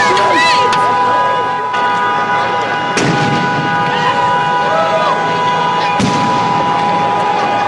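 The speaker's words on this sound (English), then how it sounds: "Multiple explosions can be heard." Repeated explosive bangs from police cruisers set on fire in a street intersection during the G20 riot in Toronto, sharp reports punctuating a constant roar of crowd noise and distant sirens.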